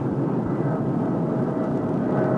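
Airplane in flight during an emergency, a dense, steady engine roar filling the cabin, loud and unbroken with a faint high whine running through it.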